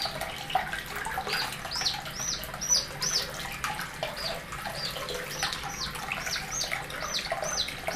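A baby bantam chick with pasty butt soaks in warm running water, the steady splash and trickle of the tap underneath repeated high, rising peeps from the chick, close by and continuous.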